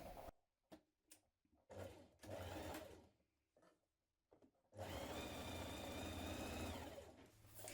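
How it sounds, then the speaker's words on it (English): A sewing machine stitches down dress pocket seams in short bursts of whirring at first, then runs in one long steady buzz, close and quiet with no talking. "We're now going to sew down in between these markings within the seam line."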